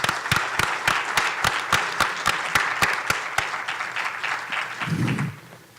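Audience applause after a speaker is introduced at a public and road-safety engineering event: sustained clapping from a crowd for about five seconds, with sharp individual claps standing out early, then fading at the end under a brief low murmur.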